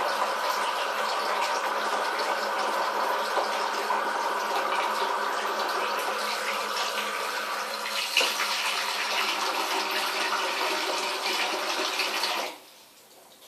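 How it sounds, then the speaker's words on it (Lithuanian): Steady rushing of water pouring into a baby doll's bathtub, loud and continuous for several seconds, then cutting off abruptly near the end. "Dabar gali būti truputėlį didelis garsas, nes matau, kad aš pilu vandenį"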